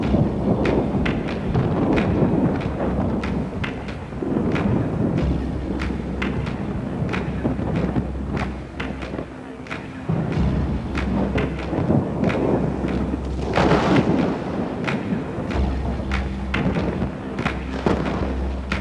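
Thunder from a powerful electrical storm over northern Australia booms and rumbles in repeated heavy rolls, with deep thuds and crackling bursts layered over a constant wash of noise, loud and sustained.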